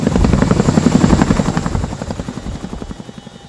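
Chinook tandem-rotor helicopter, heard as a loud, close, rhythmic rotor thud over a steady engine drone, fading somewhat toward the end.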